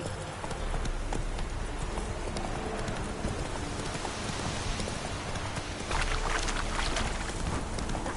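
A horse gallops in The Witcher 3: Wild Hunt, a steady, dense clip-clop of hooves running continuously at close range, growing slightly louder and busier toward the end.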